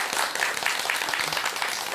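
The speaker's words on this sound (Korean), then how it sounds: "박수가 너무 가식적인 것 같아요" Audience applause during a monk's Buddhist dharma talk: a brief, moderate patter of clapping from a seated gathering, fairly even and soft in level.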